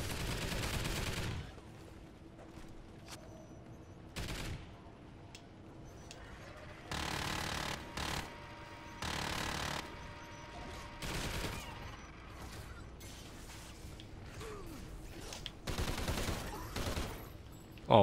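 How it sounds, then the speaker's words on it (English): A sentry gun turret firing in a video game, heard as repeated bursts of gunfire at moderate loudness, separated by gaps, amid quieter game ambience with occasional voice. "I thought it sounded like someone was on the dang turret."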